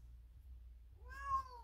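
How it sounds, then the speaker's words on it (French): A pet cat meows at a door: one short, clear meow rising and falling, close and fairly quiet over a low background hum. "il y avait celui-ci qui miaulait à la porte"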